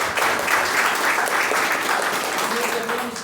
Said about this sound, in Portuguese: Vamos aplaudir esse homem.